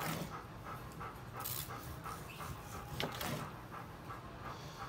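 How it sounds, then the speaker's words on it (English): A dog pants rapidly and steadily close by in a backyard where tri-tip grills on a Weber kettle, quick rhythmic breaths carrying on without a pause. "Yes, that panting you hear, you know who it is. The damn dog."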